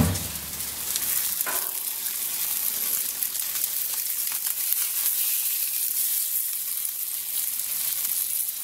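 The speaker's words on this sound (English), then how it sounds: "I'm going to flip the pork chop." A pork chop sizzles steadily on a Yoshi grill mat, a close, continuous bright frying hiss with a brief clatter near the start as the chop is flipped.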